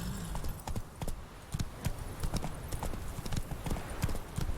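Horse hooves gallop in Witcher 3 with a quick, rhythmic clip-clop of near, loud, evenly repeating beats over a soft outdoor ambience.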